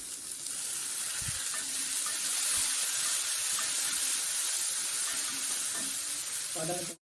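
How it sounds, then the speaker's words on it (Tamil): Crushed shallots and garlic sauté in a hot pan, making a steady, close sizzle with a few stirring knocks and no talk. "இது கூட போட்டு வதக்கிக்கலாம்."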